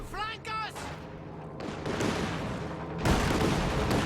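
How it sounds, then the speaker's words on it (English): Sturmovik aircraft strafing run in Company of Heroes 2, a dense burst of gunfire and explosive booms swelling loud and continuous, with a sharper heavier barrage near the end, mixed under battle noise. "Oh, that takes a nasty strafe from the Sturmovik."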